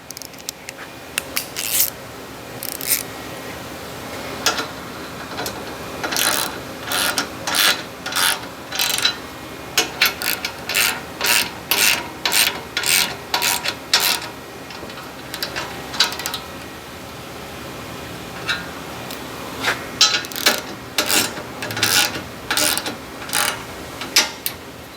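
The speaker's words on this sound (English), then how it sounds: "I'm going to grab my 3/4 socket, my socket wrench. We'll torque these down." A 3/4 socket wrench ratchets as bolts are torqued down while mounting a driver side rear tire ladder carrier on a VS30 Sprinter van, with repeated bursts of sharp clicking strokes separated by short pauses, close and clear.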